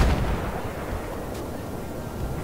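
Gunfire in the video game Battlefield or Fallout 76: a dense, continuous rumbling barrage with a slightly stronger burst at the start, loud and sustained with no clear gaps between shots.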